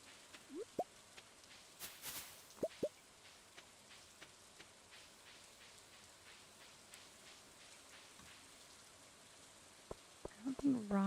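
Soft, steady rain hiss from the video game Stardew Valley runs faintly throughout, with scattered clicks and brief game tones and a voice speaking near the end.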